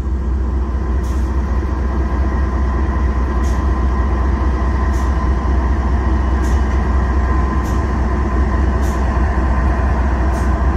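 A freight sand train rumbles steadily past up close, a continuous heavy drone with regular clicks of wheels over rail joints, no voices.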